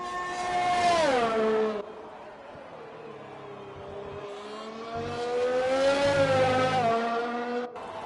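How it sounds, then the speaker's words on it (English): Formula 1 racing car engines in an esports racing game at the Italian Grand Prix, rising and falling high-pitched engine whine as cars pass and shift gears, steady and moderately loud. "He's the only car on track right now."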